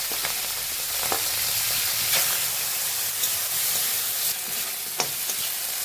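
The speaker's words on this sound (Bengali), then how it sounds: "এবারে চিংড়ি মাছগুলো ভেজে নেব।" Prawns frying in hot mustard oil in a wok give a steady, moderate sizzle and hiss, with occasional sharp pops and crackles, and no one speaks.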